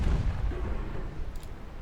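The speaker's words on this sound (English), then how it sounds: "One torpedo midships, one forward, one aft." Torpedo hits explode against a ship in a naval video game, a heavy low rumbling boom that rolls on and decays over nearly two seconds.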